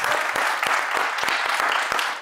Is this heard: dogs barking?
no